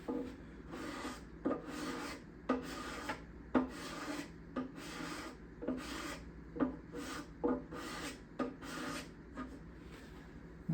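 A hand scraper works over back side bindings in a string of quick, quiet scraping strokes, roughly two per second, each a short dry rasp separated by brief pauses, with no voices.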